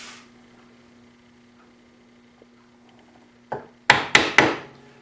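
A sharp chisel cuts and shapes wood with a few crisp, close strikes: one lighter knock, then three loud sharp blows in quick succession after a mostly quiet stretch.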